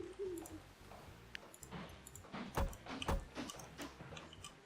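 A soft owl hoot in the rail tycoon game Mashinky signals a new quest, a few faint cooing notes among quiet ticking game sounds and light clicks.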